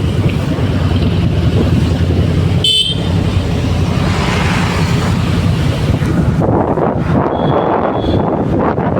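A vehicle moves slowly through heavy night-time traffic near a school, with loud steady engine and wind rumble, a short horn toot partway through and a faint tonal beep near the end.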